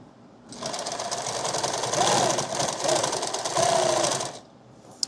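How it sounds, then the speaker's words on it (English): A sewing machine stitches webbing onto a laptop bag's shoulder strap, running in one steady, fast-pulsing burst of about four seconds that starts and stops abruptly, close and fairly quiet. "And I sew this piece here, tack that in."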